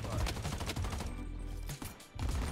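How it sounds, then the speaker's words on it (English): Bursts of automatic gunfire in the shooter game Bloodstrike, fairly loud and close, with a pause in the middle before the shooting resumes. "Why are they shooting at me?"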